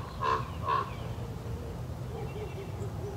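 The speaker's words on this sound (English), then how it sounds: "And in this case, it was a raven." A raven flying overhead gives two hoarse, croaking caws in quick succession at moderate distance, followed by faint steady outdoor background noise.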